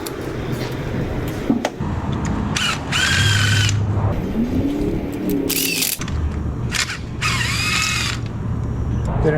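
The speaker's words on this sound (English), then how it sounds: "Using the Carlisle ratchet on this one today." Carlisle ratchet wrench working on a Chevy Cruze with a misfire: several whirring, buzzing bursts of the powered ratchet, loud and close, separated by brief clicks and pauses.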